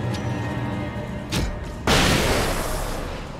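Flashbang grenades going off in Alan Wake: a short burst near 1.4 seconds, then a loud, sharp bang at about 1.9 seconds that fades into a lingering hiss over a steady background rumble.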